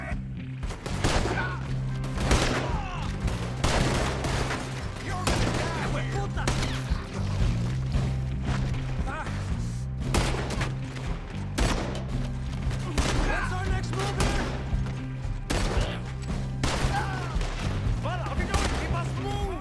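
Gunfire in Red Dead Redemption 2 crackles throughout as a steady fusillade of sharp shots and volleys, with voices talking over the battle.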